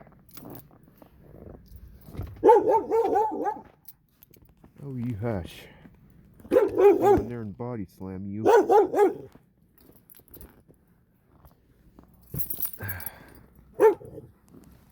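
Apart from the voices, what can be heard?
dog barking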